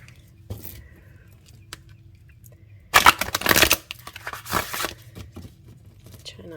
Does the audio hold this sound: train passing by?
no